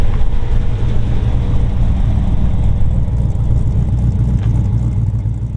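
A 1955 Chevy Bel Air resto-mod's 350 V8 idles steadily, a loud, close, continuous low rumble with a slight lope and no talking over it.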